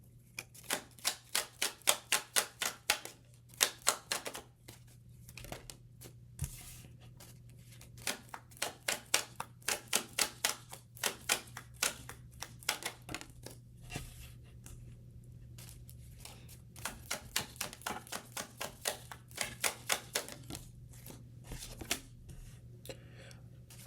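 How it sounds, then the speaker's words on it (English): Tarot cards being shuffled and drawn, a long run of crisp, rapid riffling bursts close to the mic, repeating in clusters with short pauses over a steady low hum. "Pulling 10 cards from this tarot."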